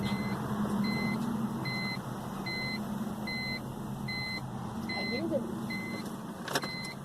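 Parked BMW E46 with the key on: the fuel pump primes as a low, steady whir under a dashboard cluster's repeating electronic beeps. The sound is faint and continuous with no voices.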